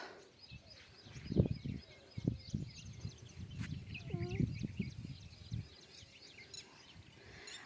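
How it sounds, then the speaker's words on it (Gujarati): A peacock-like call, loud and wavering, rings out among chirping birds outdoors, with people talking nearby in the background. "મોરિયાનો અવાજ આવે રો"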